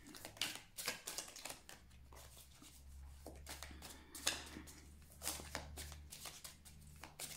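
Osho Zen tarot cards being laid down and shuffled during a tarot reading, heard as quiet, close, crisp slaps and soft papery clicks in irregular bursts over a faint low hum.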